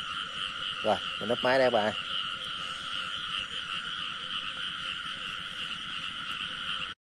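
Frogs croak in a continuous, dense night chorus during a frog hunt in Vietnam, with steady ringing calls layered close by; someone briefly speaks early on over the croaking.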